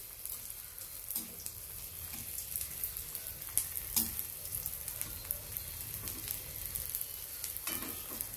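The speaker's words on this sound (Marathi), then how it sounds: "आता आपण थोडा थोडा करून डिंक तळून घेऊ" Edible gum (dink) frying in hot oil for wheat ladoos gives a steady close sizzle with soft crackles and occasional sharper pops, and no one speaks.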